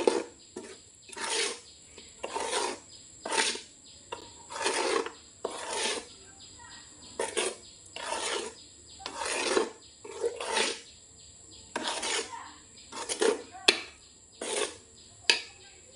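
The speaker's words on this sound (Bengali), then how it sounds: "নারকেল কুচিগুলো মিক্স করে নিচ্ছি খামির সাথে।" Hands mix grated coconut into palm dough with rhythmic, rasping rubs and squelches, each stroke repeating roughly every second, close and fairly quiet.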